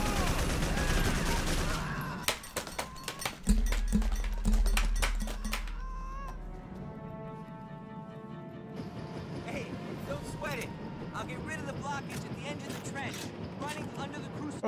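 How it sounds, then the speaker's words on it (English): Automatic A8 guns firing in a first-person video game, a loud rapid burst of gunfire early on, then fading into game ambience and music. "Those A8 guns are automatic."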